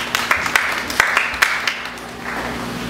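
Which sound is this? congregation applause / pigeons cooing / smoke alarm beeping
congregation applause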